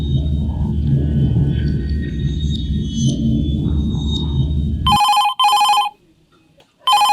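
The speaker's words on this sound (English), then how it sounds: "the actual phone rings" A telephone rings in two sharp electronic bursts, then again after a short silence, following a low rumbling background that suddenly cuts off.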